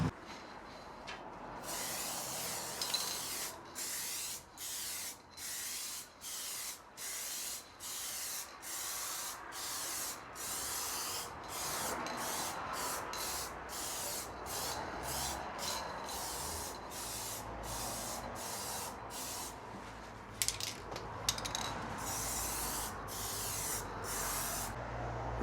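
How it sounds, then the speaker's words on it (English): Clear lacquer sprayed onto a wooden cabinet in a run of short, regular hissing bursts, then longer continuous spraying, close and fairly loud with no voices. "So I'm just going to give this a couple of coats of this clear lacquer."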